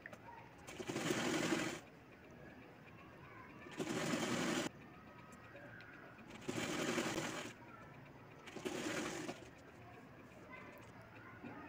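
A sewing machine stitches piping onto a baby frock in four short, even bursts of rapid whirring, with quiet room sound in the pauses between runs.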